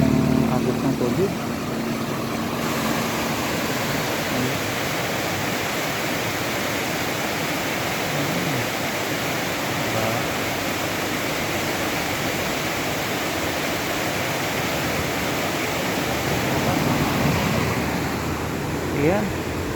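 Fast, strong water current rushes under a rebuilt bridge, a dense, continuous roar that stays loud and steady throughout, with a faint engine idling beneath it.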